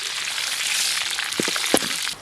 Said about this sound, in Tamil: எண்ணெய் சூடாகிடுச்சு கடுகு சேர்த்துக்கலாம் கடுகு நல்லா பறிஞ்சிருச்சு கருவேப்பிலை சேர்த்துக்கலாம் கடமிளகாய் சேர்த்துக்கலாம்